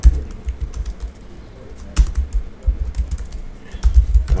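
Quick bursts of typing on a computer keyboard while entering code for a to-do list app, close and fairly loud, with uneven clusters of keystrokes and short pauses between them.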